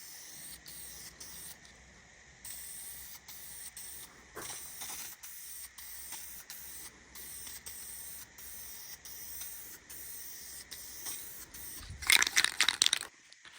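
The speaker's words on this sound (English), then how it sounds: "Now I'm gonna spray this that you see black" A burst of black spray paint from an aerosol can hisses loudly near the end, following a long stretch of quiet ticking and faint background noise, while painting 240SX S13 car seats.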